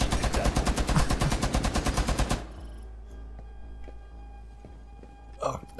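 Automatic gun firing in the Rainbow Six Siege video game: a rapid, evenly spaced burst of about fifteen loud shots, followed by near silence with faint game sounds.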